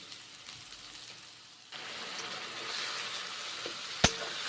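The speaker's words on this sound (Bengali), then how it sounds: "ভাজা পটলগুলোকে এবারে আমি কষে নিচ্ছি" Fried pointed gourd sautéing in a pan with ginger paste and green chilli, a steady sizzle that grows louder partway through, with a sharp clink of a utensil near the end.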